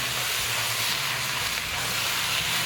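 About a pound and a half of ground beef cooks in a pan, giving a steady close sizzle and hiss with a low, uneven bubbling rumble beneath, continuous and without speech.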